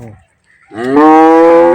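A pregnant dairy cow with a large calf lets out one long, loud moo after a brief quiet pause, the call swelling and holding close by, in Dinajpur.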